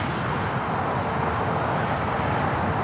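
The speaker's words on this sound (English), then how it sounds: "A little flex jet here on taxiway Alpha." Flexjet business jet taxiing on a taxiway at LAX airport, a steady, loud broadband engine roar with no change in level and no voices.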